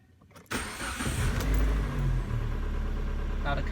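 A Proton Persona car engine cranks and catches after a brief quiet moment, then settles into a loud, steady idle close by, with no talking over it.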